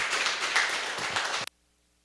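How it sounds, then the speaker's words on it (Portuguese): A church congregation applauds in a burst of dense clapping that cuts off abruptly after about a second and a half, leaving near silence. "E uma linda salva de palmas para o Todo-Poderoso."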